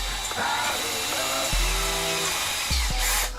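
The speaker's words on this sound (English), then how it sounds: "I'm just going to ream it out a little bit so that my driver can fit in the guide and I can get it out" Reaming a damaged valve guide in a Honda B16 cylinder head, a tool grinding in steady bursts against metal with a few sharp knocks, close and fairly loud.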